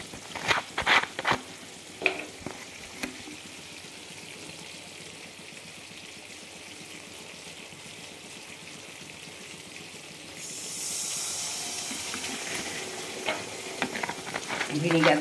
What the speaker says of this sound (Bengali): চলো একটু ভিনিগারটাও দিয়ে দিই।